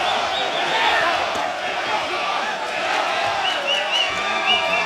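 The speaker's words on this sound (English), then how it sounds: "Mexico, Mexico is what the crowd is yelling here at the StubHub Center" Boxing crowd at the StubHub Center chanting "Mexico" during an Oscar Valdez versus Scott Quigg fight, a dense, steady roar of many voices filling the arena without a break.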